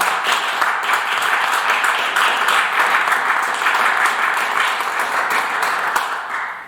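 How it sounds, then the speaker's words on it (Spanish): A lecture audience applauding a speaker, dense sustained clapping from many hands, loud and continuous throughout before tapering slightly at the end. "démosle un fuerte aplauso a Valerio Gámez."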